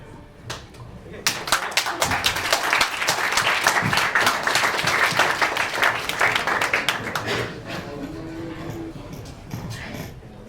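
An audience at a tech meetup applauds the speakers, many hands clapping in a dense burst that swells quickly, holds, then thins out near the end, with some talk heard around it.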